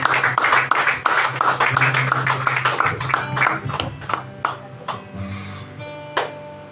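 Church congregation clapping at a Portuguese-language evangelical service, a dense spread of handclaps rising in the first seconds and tapering off beneath sustained tones, with a voice speaking over it.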